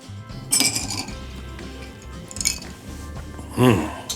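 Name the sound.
stirring a cocktail with ice and club soda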